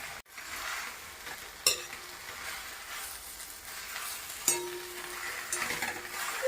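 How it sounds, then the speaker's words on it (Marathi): Tender leafy vegetables stir-fried in a pan, a soft low sizzle broken by two clear utensil scrapes or knocks, with gentle stirring between them and no talking. "परतून घ्यायचा लालसर आणि मग भाजी टाकायची"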